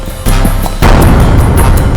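Gunshots in a TV crime drama: a loud, heavy boom, then a second, bigger blast that rings out and decays into a rumbling tail, with no talk.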